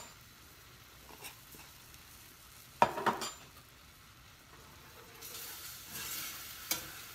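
Mushroom powder stirred into a flour roux in a pan for homemade cream of mushroom soup, soft scraping and a few sharp utensil clinks against the pan over a faint sizzle.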